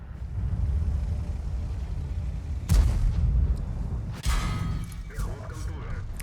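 Heavy booming cannon shots from a T-34-85M tank battle in World of Tanks, two deep blasts a second or so apart over a steady engine rumble, with a voice talking faintly underneath.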